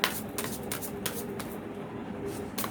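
A deck of very large tarot cards is shuffled, giving a soft, steady patter of papery flicks at close range, with a couple of sharper snaps at the start and end.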